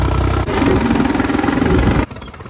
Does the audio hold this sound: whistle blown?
no